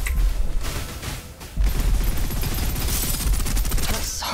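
Rapid gunfire in the shooter Snowbreak Containment Zone, dense automatic bursts rattling continuously with heavy thumps, loud and close throughout with no one speaking.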